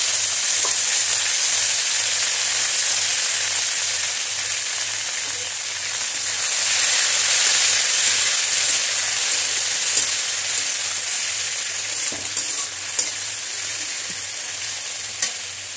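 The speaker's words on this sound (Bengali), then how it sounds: "রসুনগুলো একটু ভাজা ভাজা হয়ে গেছে, এখন আমি এটাতে টমেটো কুচি দিয়ে দিচ্ছি" Garlic sizzles in hot oil as chopped tomatoes go into the pan for a jackfruit-seed dal, a steady close crackling hiss with light stirring scrapes throughout and no voices.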